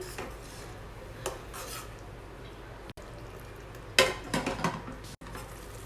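Tomato paste egg curry stirred in a pan, quiet scraping and rubbing with a few light clinks of a spoon against metal, close and soft.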